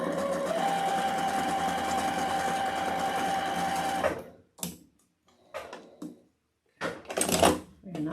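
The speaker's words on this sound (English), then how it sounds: "right along the edge, about 1/4 of an inch or so, I just sew a line" Sewing machine stitching a straight line along the edge of a leprechaun wreath attachment, a close, steady motor hum lasting about four seconds before stopping, then scattered handling clicks and short bursts of speech.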